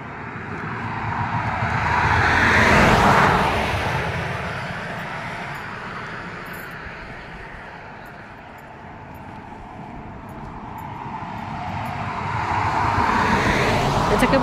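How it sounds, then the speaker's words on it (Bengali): Cars whoosh past on a quiet road in Connecticut, one swelling loudly and fading early on, then a second building up near the end, with a soft roadway hiss between them. "কোনো আওয়াজ নেই, শুধু গাড়িগুলো শ শ করে যাচ্ছে।"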